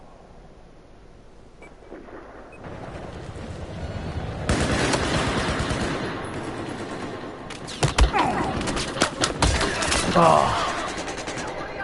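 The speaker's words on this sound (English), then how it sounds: "Guy shooting from behind." Battlefield 4 video game gunfire rattles in dense automatic bursts and booming shots, building from a quiet start into loud, continuous volleys with sharp cracks, while a voice briefly exclaims.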